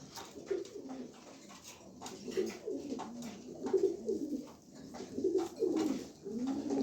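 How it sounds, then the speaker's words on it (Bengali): A male pigeon coos in a rhythmic series of soft, throaty rolling calls, close by and fairly quiet, with no voices over it. "খুব সুন্দর একটা নর কবুতর দেখেন আপনারা"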